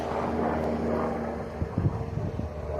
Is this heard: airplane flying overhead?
yes